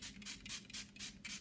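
A hydrating facial mist is sprayed onto a face in a series of quick, close, faint hissing bursts, about five short pumps in a steady rhythm with no talking.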